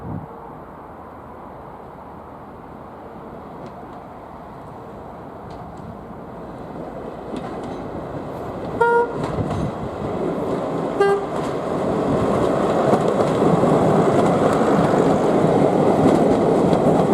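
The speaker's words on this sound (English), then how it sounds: "on our route we see Class 101 with a Rothley bound train" A Class 101 diesel multiple unit runs on the Great Central line bound for Rothley, its steady rumble growing louder as it approaches, with two brief horn toots partway through and no talk.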